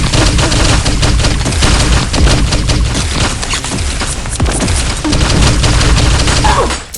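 A battle pass gun in a shooter video game fires sustained, loud bursts of rapid gunfire with booming impacts, nearly continuous throughout with only brief gaps.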